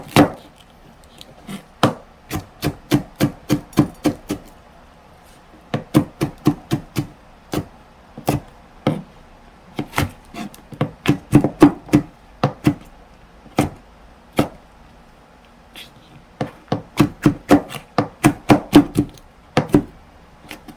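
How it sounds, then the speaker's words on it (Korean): A knife chops peppers roughly on a cutting board, firing loud, close, sharp strikes in quick bursts of several blows, separated by brief pauses throughout. "듬성듬성 이렇게 그냥 썰어주세요."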